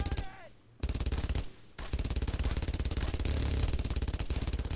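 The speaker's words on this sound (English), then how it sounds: "There's two machine guns. Why are there two machine guns?" Machine gun fire in the World War II shooter Brothers in Arms: Road to Hill 30, a loud, rapid, continuous hammering of automatic bursts, broken by short pauses, with a brief faint voice at the start.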